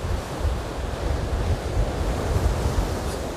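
Stormy sea waves crash and roll at night on the shore at Anapa, with gusty icy wind buffeting the microphone in a constant, heavy roar.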